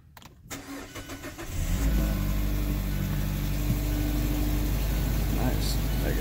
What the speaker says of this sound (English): Let's start with the Mazda